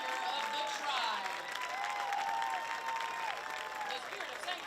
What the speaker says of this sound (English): please join us for a round of applause for our senior band members